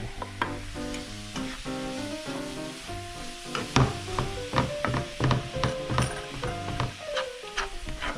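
Meat fries in a pan with a steady, close sizzle while a utensil scrapes and clatters through it in repeated strokes, with no talking.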